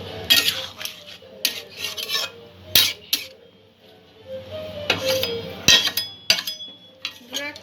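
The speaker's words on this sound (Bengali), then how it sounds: "সবকিছু একটু ভালো করে মিক্স করে নেব চিকেনের সাথে।" Chicken stirred into a creamy white sauce gravy in a pan with a utensil, metal scraping and clinking in repeated bursts against a low simmering hum, close and fairly loud, with no talking.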